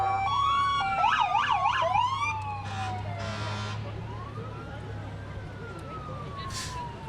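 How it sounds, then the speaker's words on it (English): Fire truck sirens at a parade sweep up and down loudly at first, overlapping with a horn-like tone, then fade into a lower steady wail beneath a rumbling engine. "The kids love to hear those sirens."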